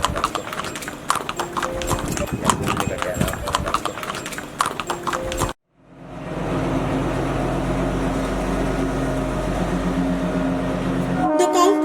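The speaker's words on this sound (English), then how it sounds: "Shimla toy train is one of the most scenic railway journeys which connects Kalka and Shimla on narrow gauge." The Shimla toy train runs on the narrow-gauge Kalka–Shimla railway in Himachal Pradesh. A busy rhythmic clatter breaks off abruptly into a brief silence, then a steady, low rumbling drone of the moving train carries on to the end.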